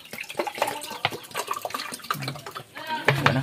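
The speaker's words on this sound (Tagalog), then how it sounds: "Mahugas ata sa kamot." Tap water runs and splashes in a sink while hands are washed at home, an uneven close trickle with a voice talking over it.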